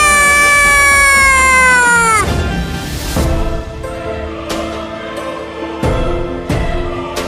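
A cartoon tomcat named Billa lets out a long, loud, drawn-out meow that bends downward, followed by busy background music with rhythmic hits.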